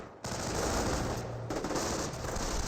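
Steady machine-gun and rifle fire from a World War II battle in Company of Heroes, a dense unbroken rattle of shots that starts abruptly and stays loud, with only a brief dip midway.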